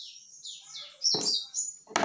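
A pet bird gives quick high chirps and trills in a room, at moderate level, with a louder burst of chirping near the end.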